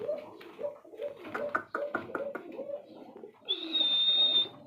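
Domestic pigeons cooing at a breeder's farm, a run of close, repeated throaty coos with wing flutters and light clatter, followed by a brief high whistle-like tone near the end.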